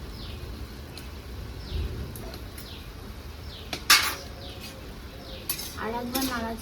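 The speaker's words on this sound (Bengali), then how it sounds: "আর একবার নাড়াচাড়া করে লবণটার সাথে ভালো করে মিশিয়ে দিই" Dal with salt being stirred in a pot, soft scraping strokes and a few sharp clinks of a spoon against metal, fairly close and quiet with low background hiss.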